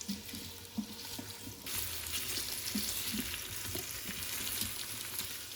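Andouille sausage browns in an Instant Pot, a steady close sizzle and crackle with soft stirring scrapes, the frying growing slightly louder partway through.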